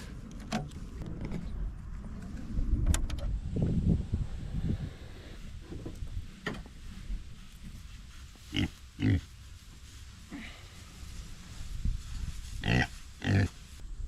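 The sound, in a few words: pigs on a farm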